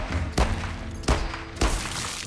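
Gunfire in the VR zombie shooter Arizona Sunshine 2 comes as three sharp, loud shots spaced about half a second to a second apart over a low, steady game background.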